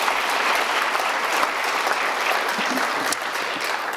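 Audience applause at a county education awards ceremony, honoring the production staff: steady, dense clapping from a large crowd that holds for the full stretch without a break.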